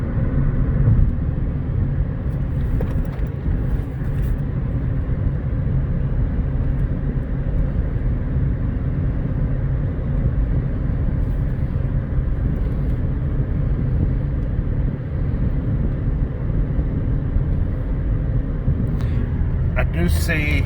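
A 2013 Ford Fusion Hybrid SE cruising on the road with cruise control set, a steady low rumble of tires and wind inside the cabin, smooth and even, with a few faint clicks.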